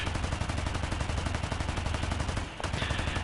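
Rapid, unbroken machine-gun fire from an aircraft in War Thunder's air realistic battles hammers loud and close, with a brief stutter near the end before the stream resumes.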